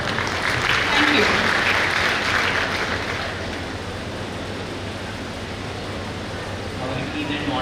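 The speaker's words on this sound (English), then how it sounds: "please join me in warmly welcoming Dr. Dipendra Singh sir to deliver his key address with a round applause" An audience at an international pharmaceutical and forensic science conference applauds to welcome a keynote speaker, moderately loud clapping that swells in the first seconds and then tapers into a quieter, steady patter with faint voices.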